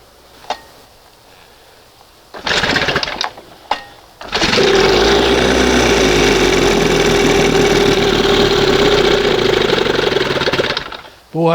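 A 1971 Johnson 20hp outboard motor starts after a few brief bursts and then runs steadily at a loud, close idle for several seconds before cutting off.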